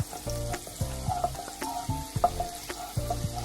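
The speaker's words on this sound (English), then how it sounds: "We can just like slightly saute it." Onion and garlic cook lightly in a pan for white sauce pasta, giving a steady close sizzle with scattered soft clinks and scraping of stirring, and no voices.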